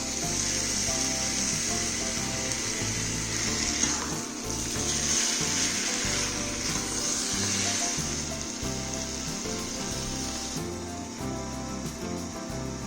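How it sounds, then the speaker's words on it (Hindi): Marinated chicken frying with browned onions and turmeric in a pan for a dhaba-style chicken curry, a steady loud sizzle and hiss throughout, close up with occasional clinks and no talking. "प्याज अच्छे से भुन जाए तो मैरिनेट किया हुआ चिकन डालकर पकाएंगे।"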